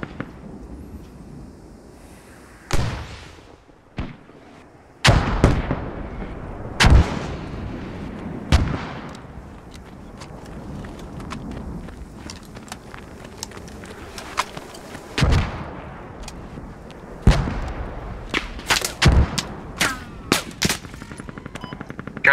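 Gunfire and artillery from the military shooter game Squad boom and crack throughout, loud sharp blasts and heavy thuds scattered irregularly over a constant rumbling battle din, with bursts of rapid shots between the bigger explosions.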